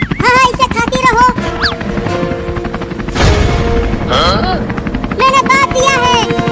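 A helicopter lifts off in an animated comedy, its steady rotor drone running under several voices talking throughout, with a burst of crashing noise partway through.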